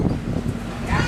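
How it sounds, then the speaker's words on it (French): Strong wind from Hurricane Irma roars and buffets against the microphone in gusty, uneven bursts at close range, a loud rumbling rush that swells and dips over a brief moment. "il y a beaucoup de vent"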